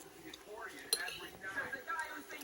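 A small spoon clinks lightly against a bowl of creamy oyster chowder, a few quick metallic taps under quiet talk.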